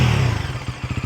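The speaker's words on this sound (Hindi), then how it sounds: "ये बाइक को स्टार्ट कर लेते हैं, इंजन साउंड सुन लेते हैं, एग्जॉस्ट नोट सुन लेते हैं।" A Bajaj Pulsar NS400 motorcycle engine revs close up, a loud throaty rise that breaks into a pulsing, burbling exhaust note as the throttle is worked.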